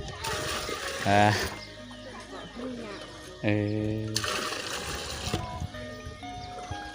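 In a rural Bru village, water is scooped up and splashed near a house in two loud, brief splashing bursts, with trickling between them and people talking throughout.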